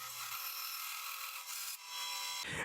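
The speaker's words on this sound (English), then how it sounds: "Here I remove most of the material on the bandsaw." Bandsaw slicing through a wooden blank while roughing out gears for a wooden zoetrope toy, a steady close rasping cut that runs continuously with slight shifts in tone as the blade works through the material.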